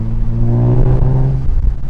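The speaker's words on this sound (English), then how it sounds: "I'm not sure if the mic can pick up the sound of the exhaust," Exhaust of a Mercedes SLK350 on a Hong Kong mountain road, a steady loud low rumble with a deep droning tone held throughout, easing slightly near the end, with no talking.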